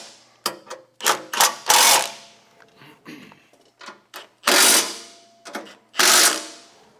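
An impact wrench tightens bolts on a Tilmor 520 tractor in several short, close bursts of loud rattling hammering, with quieter clicks and handling noises between them.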